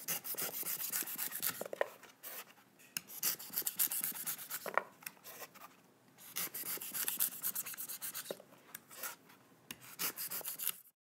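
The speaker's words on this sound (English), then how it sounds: "I'll just work the cleaver all the way around, shaving off that outer white layer" A cleaver shaves the outer white husk off a young coconut, making repeated close rasping scrapes in short bursts with brief pauses between strokes, and no one speaks.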